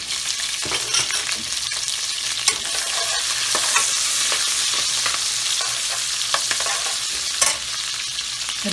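Cumin, ginger, garlic and chili frying in a pan for Chicken 65, a steady close sizzle with clinks and scrapes of stirring throughout, no voices.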